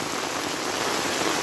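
Heavy rain falls hard and continuously, a thick close patter of drops on surfaces forming an even roar, with no voices present.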